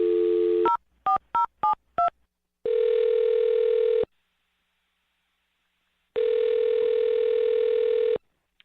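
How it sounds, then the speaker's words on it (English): Phone dialing for a radio prank call: a quick run of five touch-tone beeps after a short tone, then two long, loud ringback tones with silence between, clear and alone. "I'm going to dial his phone number right now"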